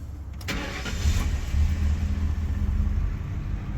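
A 2001 Ford Crown Victoria with a tired fuel pump runs at idle, a steady close engine rumble and hum that swells slightly after a brief start, continuing evenly throughout.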